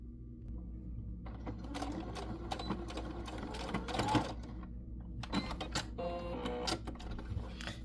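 A sewing machine runs a quick stitch on a simple beginner craft project, starting after a short pause with fast mechanical whirring and clattering in a few bursts, close and clear with no talking.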